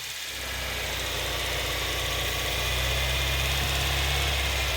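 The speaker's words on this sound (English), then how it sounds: "Hear it revving? Vacuum leak." A Hyundai car engine with a vacuum leak idles steadily with a low, droning rumble and slight vibration, its pitch creeping upward as the revs rise on their own.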